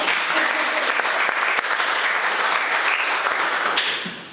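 An audience at an evening Inquiring Minds conversation event in Philadelphia applauds its sponsor, with steady, dense clapping from a crowd held at an even level for about four seconds before it tapers at the end.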